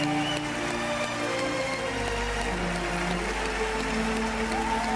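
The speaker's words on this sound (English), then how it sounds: "Yeah, the ovation goes on for a full minute." A crowd gives Leonardo DiCaprio a standing ovation, sustained dense applause that sounds like heavy rain on a surface, steady throughout, with a faint low hum beneath.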